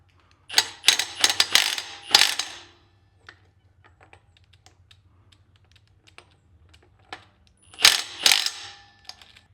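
A ratchet wrench tightens a pinion nut on a K10 4x4 rear axle to set bearing preload. Two close bursts of rapid clicking are separated by a quiet pause with faint small clicks.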